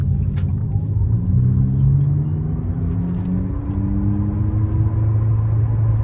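An Abarth 500e electric car drives steadily with a low hum, its artificial sound switched off, a faint tone rising gradually in pitch as it speeds up, then levelling off; no talking.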